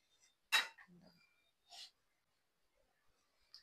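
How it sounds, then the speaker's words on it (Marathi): A spoon scrapes and clinks as cooked fasting khichdi is served from a pan into a bowl, giving a few sharp, quiet metallic taps with soft gaps between them. "आता आपण बोल मध्ये काढून घेऊ."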